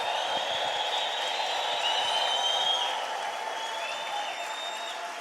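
A church congregation claps in a steady, dense wash of applause while high, wavering ululation trills ride on top, sustained for several seconds before easing slightly.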